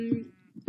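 Sheep in Minecraft give short bleats, one near the start and another at the end, moderately loud over a quiet game background.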